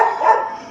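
Dogs barking in a busy backyard garden, a short burst of yapping that sits fairly close and loud, with no talk over it.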